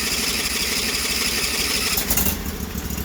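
Craftsman 4 HP wood chipper shredder with a Chinese replacement carburetor, its small engine running steadily and loud outdoors on a windy day, a continuous drone with a brief surge near the end.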